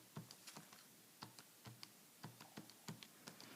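Coefficients are keyed into a TI-83 calculator, giving a run of quick, light, close plastic key clicks in an uneven rhythm with no talking.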